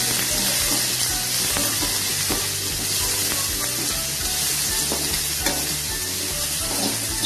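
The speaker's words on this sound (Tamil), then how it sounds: "வெங்காயம் இந்த அளவுக்கு நல்லா வதங்கினோன்னு" Small onions sautéing with salt in a pan, a loud, dense, continuous crackling sizzle with faint stirring scrapes, close and uninterrupted, with no voices.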